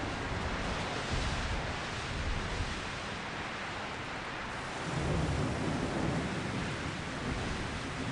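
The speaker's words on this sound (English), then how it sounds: "The onset of a thunderstorm almost always includes strong gusts of wind and heavy rain." Steady heavy rain pouring down during a thunderstorm with strong wind gusts, a low rumbling roar, dense and continuous, swelling slightly about halfway through.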